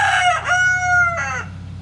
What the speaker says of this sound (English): That's a crowing rooster.